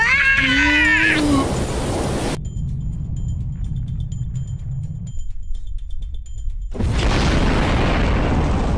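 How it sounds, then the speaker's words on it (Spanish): A cartoon volcano erupts in loud, broadband booming blasts: a short burst after a high shrill cry, a quieter low rumble, then a second sustained roaring eruption at the end. "¡El volcán hace erupción!"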